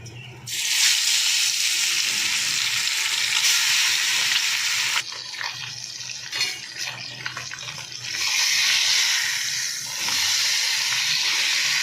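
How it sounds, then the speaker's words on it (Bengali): Spice-marinated fish frying in a pan, giving a loud, steady hiss of hot oil that dips briefly midway, then returns to a strong continuous sizzle, with no voices. "এবার আমি মাছগুলো ভেজে নেবো।"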